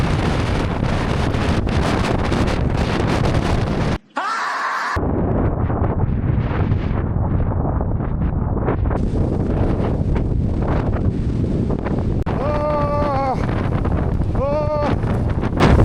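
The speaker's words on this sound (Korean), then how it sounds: "와, 근데 바람 너무 많이 부는데?" Strong wind on the Jeju coastal road, a loud, continuous roar buffeting the microphone with one abrupt brief dropout, and a voice speaking over the gusts.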